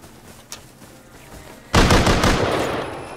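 Revolver fire in the survival game Rust. A couple of faint pops come first, then one loud close shot with a short ringing tail.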